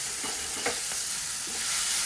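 Baingan bharta is stirred and scraped on a hot tawa, with a continuous close sizzle of frying and soft, irregular scraping strokes throughout.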